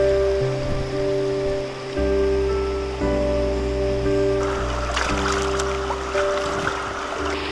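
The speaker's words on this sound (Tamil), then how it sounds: "ஆனால் வாய்க்கால் தண்ணி பார்த்தீங்கன்னா மேக்ஸிமம் வந்துகிட்டே தான் இருக்கும்." Rain-swollen irrigation canal water flowing steadily, a constant rushing wash under a droning tonal hum, with a brief rise in hiss and splashy texture toward the end.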